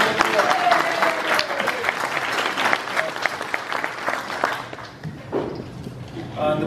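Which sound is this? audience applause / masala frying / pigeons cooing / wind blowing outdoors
audience applause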